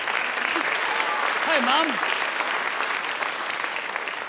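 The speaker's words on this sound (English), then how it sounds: "Round of applause for Mum." Studio audience on a televised talent show applauds steadily throughout, a dense even wash of clapping with a brief spoken greeting over the top.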